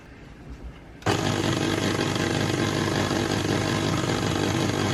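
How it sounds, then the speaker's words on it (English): Electric beaters whirring through cheesecake batter, starting abruptly after a quiet second and then running as a loud, steady, close motor drone to the end, alone without talk. "at this stage we're going to turn off the beaters"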